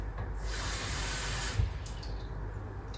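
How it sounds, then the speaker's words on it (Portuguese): Half a cup of water poured while making hot Swiss chocolate, a steady close splashing stream running the full few seconds with no voices. "Vou colocar aqui meia xícara de água."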